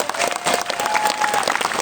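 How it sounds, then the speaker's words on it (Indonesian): A crowd in Palangkaraya applauds for the police, a short burst of dense, even hand clapping with a faint tone running underneath. "Tepuk tangan untuk Polri."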